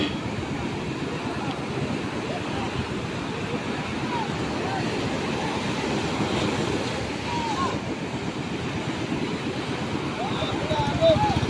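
Large ocean waves surge and crash around a small wooden outrigger bangka as it tries to push out through the surf, a steady loud roar of water and wind with voices faintly mixed in.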